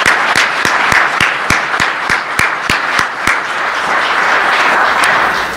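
An audience at a university faculty awards ceremony applauds award-winning faculty. Loud, close clapping with a few sharp, regular claps standing out over the broader crowd applause for the whole stretch.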